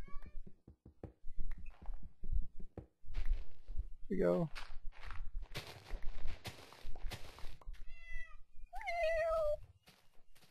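A cat meows in modded Minecraft, short rising cries near the end, following footstep-like taps and game sounds, with someone talking over parts of it.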